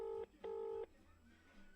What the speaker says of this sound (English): We're ringing, baby.